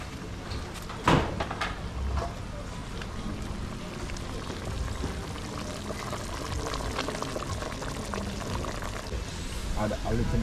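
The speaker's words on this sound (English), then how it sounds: "Add a little bit of water." Water is poured into a pot of curried conch and fish, giving a continuous splashing and bubbling sound under a brief clatter at the start, with talk alongside.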